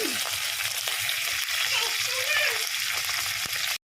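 Cumin seeds and curry leaves sizzle in hot oil for an okra and roasted gram dal fry, a steady close hiss and crackle that runs unbroken until it cuts off abruptly.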